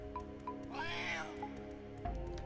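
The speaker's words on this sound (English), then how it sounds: "Cat." A cat meows with a drawn-out, wavering call from the Banjo-Tooie video game, rising and falling over soft game music with short chimes, heard alone without talk.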